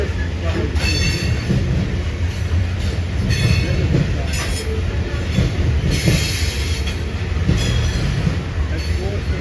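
A freight train with cement cars rumbles past continuously and loudly, with rattling cars, clanking wheels and brief squeals, while someone talks over the noise.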